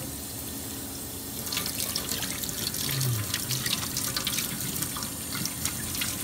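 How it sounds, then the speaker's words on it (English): Hands being washed with soap under a running tap in a restaurant setting, a steady close rush of water that grows fuller and splashier as the hands move under the stream. "it's really important to wash your hands. Just like that, a little soap."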